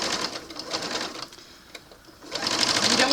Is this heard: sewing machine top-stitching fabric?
yes